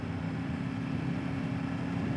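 A 2022 KTM 890 Duke motorcycle engine pulls steadily in sixth gear in sport mode on a highway, producing a constant, droning hum mixed with wind rush.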